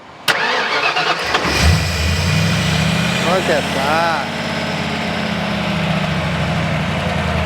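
A custom Mustang engine with a custom exhaust cranks and fires up with a rev, then settles into a steady, rumbling idle through the mufflers; a voice speaks briefly near the start.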